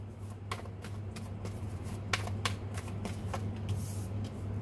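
Tarot cards are shuffled in a quiet room, giving faint, close, repeated riffling and slapping bursts over a low steady hum.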